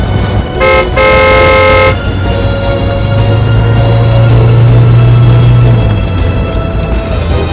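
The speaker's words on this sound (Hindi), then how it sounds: "जो कोई भी है, गाड़ी बहुत तेज चला रहा है" A fast-moving car honks repeatedly, with short toots followed by a longer blast over a loud, continuous engine and road roar, close and dominant.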